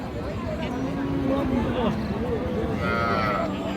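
Cattle at a rural livestock market, with a desi cow among them, mooing in long low drawn-out calls close by over a constant crowd murmur and market bustle.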